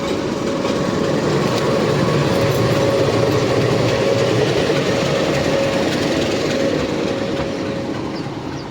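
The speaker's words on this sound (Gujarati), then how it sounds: "આપણી મીટર ગેટ ટ્રેનનું એન્જિન હવે આ સાઈડથી નીકળી અને આ સાઈડ લાગશે" A meter gauge train engine idles loudly and steadily at Chalala railway station, a continuous low diesel rumble with rail clatter that stays close and constant throughout.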